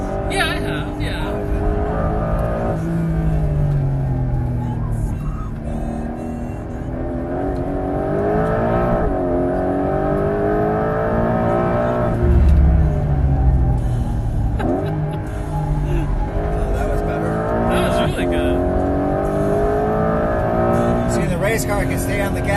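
A 2025 Porsche 911 GTS engine pulls hard on a racetrack, heard from inside the cabin as a sustained rising and falling drone through gear changes, with people talking over it throughout.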